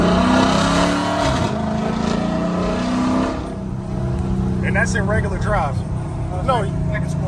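A modified 2018 Chrysler 300S with a 5.7L Hemi V8 engine cruising in regular drive mode, a loud steady engine drone and road rumble that eases slightly partway through, with brief higher tones riding on top.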